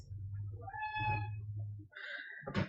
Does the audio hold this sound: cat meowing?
yes